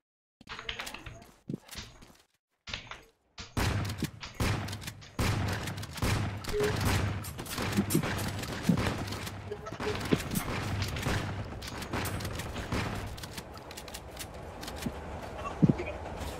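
Rapid bursts of gunfire crackle through a LifeAfter mobile game match, starting in sparse shots and then running as dense, continuous shooting, with someone talking over it.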